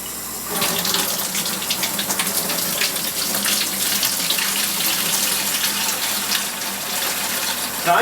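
Warm tap water gushes steadily into a vessel for home brewing a Christmas ale, a loud continuous splashing rush that starts after a brief pause and holds without break.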